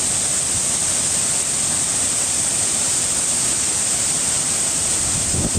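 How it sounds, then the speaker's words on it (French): The Cascade de Glandieu waterfall gives a steady, dense roar of falling water, loud and close, with no break in the rush and no voices. "C'est la cascade de Glandieu"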